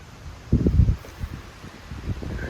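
Gusts of wind buffet the microphone in low, muffled rumbles, strongest in one burst and then softer puffs over a quiet outdoor hiss.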